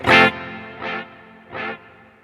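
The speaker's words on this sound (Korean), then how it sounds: "이게 모듈레이션이라는 걸 넣어주면" Electric guitar run through a modulation effect pedal, three wobbling chorus-like strums or notes ringing out with a warbling, shimmering tone, each decaying before the next, close and clear with no talking.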